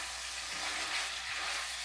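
Leftover cold rice frying in a pan, a steady bright sizzle with soft scraping and stirring, close and continuous, no voices.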